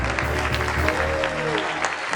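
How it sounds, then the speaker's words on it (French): Studio audience applause on a French-language game show, steady dense clapping throughout, with a faint voice or whistle briefly audible underneath. "applaudissements pour Bobo, s'il vous plaît, les gars."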